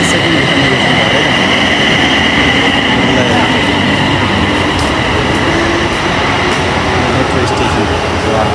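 A metro train pulls into a Bangkok station with a loud, steady rumble and rail hum throughout, a faint voice barely audible beneath it.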